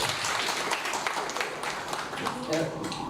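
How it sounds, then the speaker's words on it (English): An audience at an international conference panel on pedestrian spaces gives a round of applause. Dense, continuous clapping fills the room at full volume. "Can we have a round of applause again to conclude the panel?"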